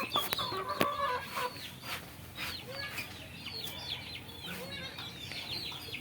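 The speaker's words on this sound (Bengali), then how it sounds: "আর ওই যে সব মুরগিগুলো খেয়ে দিয়ে পালিয়ে যাচ্ছে।" Free-range desi village chickens cluck and chirp repeatedly in an outdoor yard while feeding on rice, with several birds calling at once at moderate distance and no talking.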